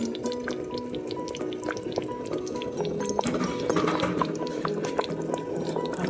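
Fresh shrimp stirred into a pot of Creole smothered okra with blue crab and sausage: wet, sloshing liquid movement with scattered small clicks over a steady low hum, close by and continuous.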